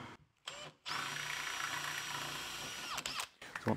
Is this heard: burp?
no